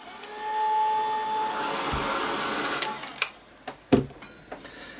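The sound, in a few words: heat blast drying paint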